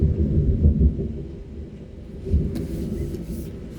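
A thunderstorm rumbles low and continuous with heavy rain hiss, swelling into two deeper thunder rolls near the start and again midway, loud and enveloping with no voices.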